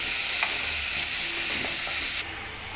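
Tomato and chili paste frying in a hot pan, a steady bright sizzle with small scattered spits, fairly close and unbroken for a few seconds with no voices.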